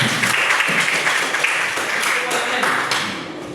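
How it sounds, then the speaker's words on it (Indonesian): A classroom breaks into applause after a student presentation on making rebok, a Manggarai local food, with dense, even clapping throughout and some voices mixed in. "Kita berikan tepuk tangan."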